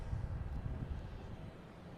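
An airliner inbound from Doha on final approach at Boston Logan rumbles as a low, steady engine drone, fairly faint and with no voices.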